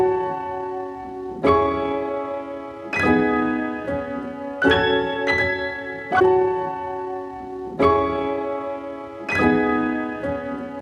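Piano part of a sample-based beat built from vintage samples, struck chords in a steady repeating pattern with simple embellishments on top, played alone at moderate volume.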